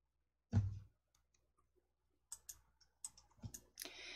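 A computer mouse clicks quietly at a desk, one sharp click followed after a pause by a cluster of quick clicks and taps, close and faint, with no talk.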